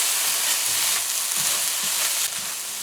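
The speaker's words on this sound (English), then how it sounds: "So now we're gonna add our Casareep and our Chinese sauce. Give that a good mix again." Fried rice with casareep, Chinese sauce and five spice hisses loudly and continuously in a hot pan, close up, with faint stirring scrapes beneath the sizzle.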